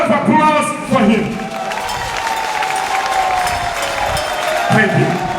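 A crowd at a political launch event applauding as the Honorable Emmanuel Wilson is invited to the podium, steady clapping and murmuring with voices mixed in throughout.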